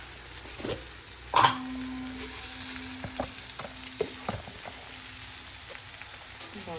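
Puffed rice (churumuri) being stirred in a pan on a gas stove: scattered scraping taps and light crackling, with a louder clatter near the start over a soft sizzling background, no voices.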